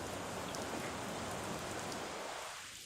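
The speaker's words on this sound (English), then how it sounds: "I do have to keep the rain coming." Rain pours in Minecraft as a dense, even hiss that holds level for nearly three seconds and then begins to fade, with no voices.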